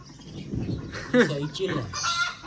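Hens in a new coop cluck and squawk loudly and close by, overlapping calls rising and falling in a busy, noisy chorus, with a voice briefly mixed in.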